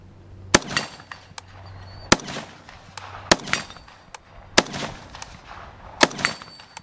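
Rifle fitted with an ALG AKT-EL trigger fired at a swinging steel plate outdoors, six or so sharp cracks spaced about a second apart, some followed by faint metallic pings.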